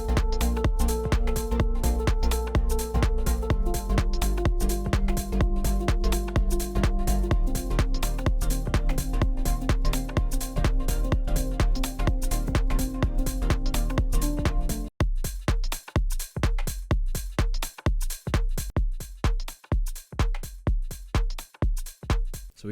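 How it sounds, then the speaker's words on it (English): House track with tight electronic drums, a standard four-on-the-floor kick, clap and tonal snare on two and four, under steady synth chords; loud and continuous, the chords drop out near the end leaving punchy drums alone. "Let's move over to our housey track"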